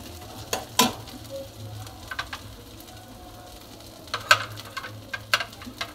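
Spices fry in a pan for olive pickle with a low, steady sizzle, broken by a few sharp utensil scrapes and clicks from stirring. No one speaks.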